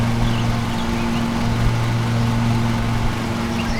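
Riding lawn mower engine in Lawn Mowing Simulator, a steady, loud, low droning hum with an even tone throughout, close and continuous with no talk.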